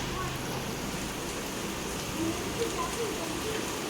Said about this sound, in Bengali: দেখো কি বৃষ্টি হচ্ছে।